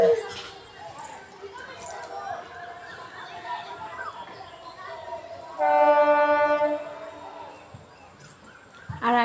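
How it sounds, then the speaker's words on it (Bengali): A train horn sounds near a station beside a house, a loud steady multi-tone blast lasting a couple of seconds that rises over a background of muffled voices and ambient noise before fading back down. "আমার বাড়ির পাশে স্টেশন, ট্রেন যায়।"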